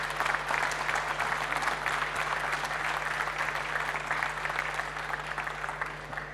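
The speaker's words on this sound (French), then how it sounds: "on peut applaudir encore une fois Stéphane" A hall audience applauds the award winner Stéphane at an installers' trophy ceremony: dense, steady clapping that runs continuously throughout, with no voices heard over it.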